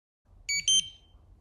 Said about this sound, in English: It will flash blue and beep twice.